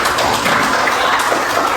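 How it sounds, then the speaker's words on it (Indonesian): A short burst of scattered clapping from a small group, fairly close and steady throughout. "kasih tepuk tangan"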